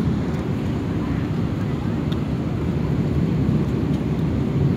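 Cabin of an EasyJet Airbus A319/320 airliner during landing, a constant deep engine and air roar filling the space, steady and loud with a faint ping or two.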